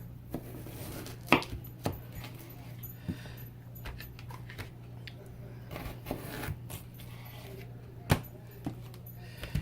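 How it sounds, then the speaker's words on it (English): A knife chops potatoes lengthwise into thick steak fries on a board, with scattered sharp cuts and thuds over a low steady hum. "Cut quarter potatoes lengthwise, which means cut it this way and then cut it this way."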